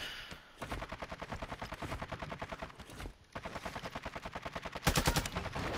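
Minigun fire in a video game, long rapid mechanical bursts with a brief pause midway and a louder surge near the end, close and dominant with almost no voices.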